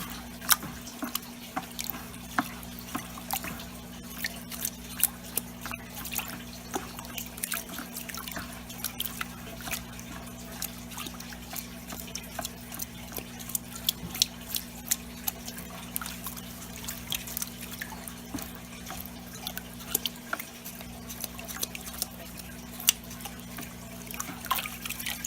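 Water drips and trickles from a flipped-over fry-safe aquarium filter, a continuous light splatter of small droplets over a low steady hum from the aquarium equipment.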